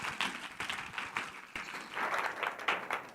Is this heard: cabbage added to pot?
no